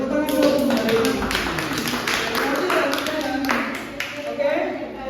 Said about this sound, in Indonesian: Oke, tepuk tangan dulu untuk Mbak Rina.